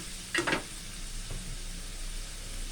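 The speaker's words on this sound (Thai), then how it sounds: "ใส่หมูลงไปรวนในนี้เลยทุกคน รวนหมูไว้ในกระทะที่มีน้ำมันกระเทียมเลยจะได้หอมหอม" Pork being stir-fried in a wok with garlic oil, a soft steady sizzle with a short burst of spatula scraping near the start and a faint clink later, quiet and close.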